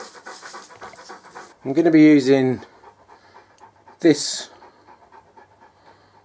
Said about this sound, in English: We're looking after the wife's parents' dog